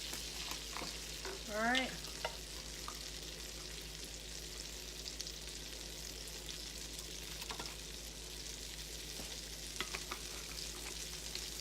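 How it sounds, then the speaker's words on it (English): Butter melts in a pan while cooking pan-seared red snapper with stew, a soft steady sizzle under faint kitchen clatter, with one short phrase spoken quietly near the start. "So I want to first melt this butter."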